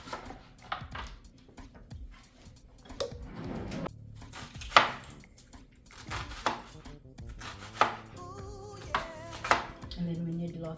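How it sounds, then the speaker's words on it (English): A knife chops an onion repeatedly on a cutting board, uneven taps and thuds close by, while people talk over the chopping. "So chopping the onion"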